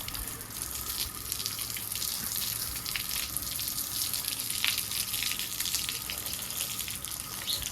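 Water gushes steadily from a hose or tap onto a household courtyard floor to wet it, a continuous broadband splashing hiss that stays even and close throughout with no voices.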